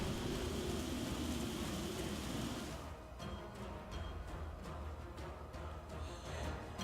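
A Plague Storm spell effect from the video game Fell Seal: a rushing storm wash of rain and thunder that cuts off abruptly, leaving a quieter stretch with scattered sharp ticks and crackles.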